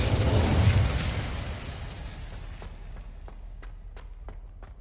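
The Incendio fire spell cast in a Harry Potter video game bursts out as a loud whooshing blast that fades over a couple of seconds, followed by a few sharp crackling pops tapering off, with no voices.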